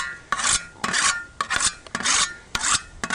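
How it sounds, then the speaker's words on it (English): A sharpening stone rasps along either edge of a long scythe blade, about six close, steady strokes in a brisk back-and-forth rhythm, with no voices. "That sound is the sound of a stone going against either edge of the long blade of a scythe."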